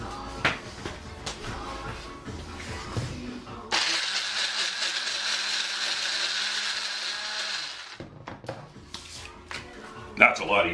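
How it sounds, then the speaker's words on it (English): A kitchen blender-chopper processing food for a spaghetti dish, a steady loud whirring run of about four seconds that starts and stops abruptly, with kitchen handling noises before and after. "blender chopper mixer thingy, and that will make quick work of it"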